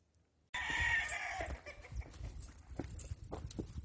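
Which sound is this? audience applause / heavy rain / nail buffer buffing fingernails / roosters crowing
roosters crowing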